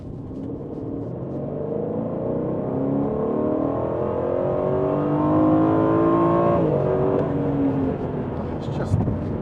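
A 2022 Aston Martin Vantage V8 drives along, its engine droning and climbing in pitch as it accelerates, then shifting down near the end, a loud steady rumble heard from inside, with speech over it.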